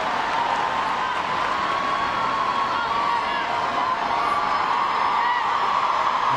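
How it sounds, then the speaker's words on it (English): A large soccer stadium crowd at a women's international match, USA against Ireland, roars in a steady, loud, sustained cheer with no breaks, a dense wash of voices filling the whole span. "And has the crowd on their feet here."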